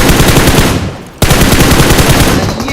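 Loud automatic gunfire from the mobile battle royale game BGMI, continuous rapid bursts with a brief break partway through before firing resumes at full intensity.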